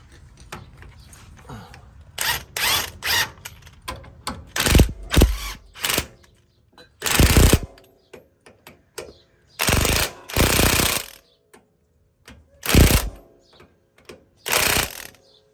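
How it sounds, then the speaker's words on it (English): Impact wrench firing in short repeated bursts on the bolts of KDSS front sway bar clamps, loud and close, with about a dozen rattling hammer bursts separated by pauses and no talking. "I'm gonna come over here and blast those bolts"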